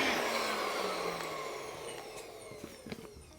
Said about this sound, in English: That we are going to grind into a flour.